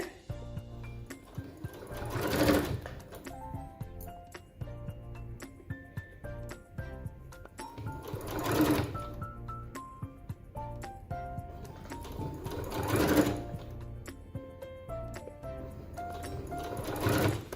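A sewing machine stitches recycled old cloth in repeated runs, its needle chattering rhythmically and swelling louder in short bursts around every few seconds, close and unaccompanied by talk.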